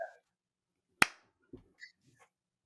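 A single sharp hand clap rings out close and loud in a quiet room, followed by a few softer scattered taps and small noises.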